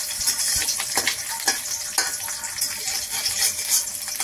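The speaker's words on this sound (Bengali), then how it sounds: "ডিমটা ভাজা হয়ে গেছে" An egg fries in a pan for a homemade burger. It crackles and spatters up close, with fairly regular pops over a continuous sizzle and no talking.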